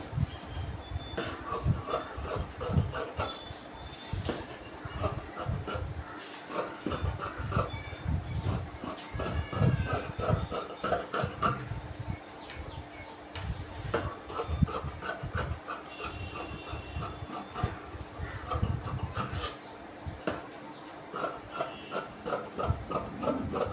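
Scissors cut through fabric for an Aari work blouse, a steady run of close crisp snipping and ratcheting blade clicks repeating throughout with no talk.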